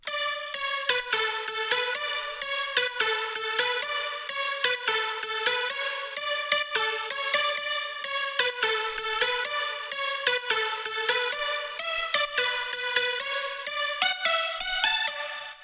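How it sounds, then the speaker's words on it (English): A bright synth lead plays a repeating, bouncy drop melody in a melodic house track over a steady beat, loud and close, with no voices. "I've created a second drop melody that sounds like this"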